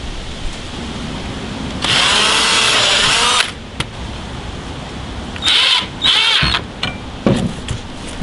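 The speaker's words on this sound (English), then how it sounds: "Again, we're going to drill some holes." Power drill whirs through several short bursts while drilling holes for a window operator installation, loud and close with quiet handling noise between runs.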